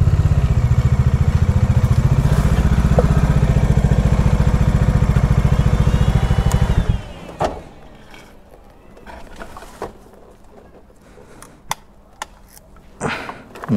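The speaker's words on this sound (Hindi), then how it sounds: "तुम मेरे बाइक का आवाज ही पहचान गई" A Bajaj Dominar 400 motorcycle engine runs loudly and steadily, then cuts off, leaving quiet with a few scattered clicks and knocks from the still-hot bike.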